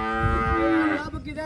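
A cow moos loudly and close by in one long, sustained call that wavers in pitch and fades at the end, with no voices over it.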